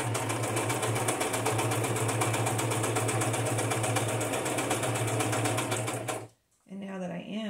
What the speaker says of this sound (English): Figured out what I was doing wrong with the bobbin because I wasn't using this machine that much.